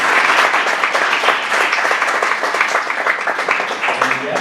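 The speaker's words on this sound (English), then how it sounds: "Can we have one more round of applause for Don, please?" A conference audience applauds after a workshop at a data science event, dense steady clapping from a crowd, continuous and fairly loud.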